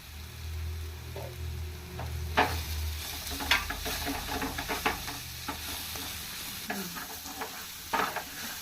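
Ground masala and garam masala powder sizzle and fry in butter for a soya chunk curry, stirred steadily with a spoon that scrapes and clinks against the pan in irregular bursts over a constant low frying hiss.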